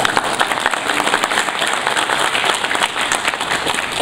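Audience at a Washington County firefighters' banquet gives a steady round of applause, dense overlapping clapping filling the room at a constant level throughout.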